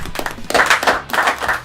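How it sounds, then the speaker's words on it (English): A studio audience bursts into brief, dense clapping at the start of a talk show, loud and close, with a small dip in the middle before the applause swells again. "we don't even hide that I tell them to clap to start the show"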